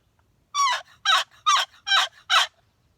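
A turkey gobbles close by, five loud rattling bursts in quick regular succession against a quiet background.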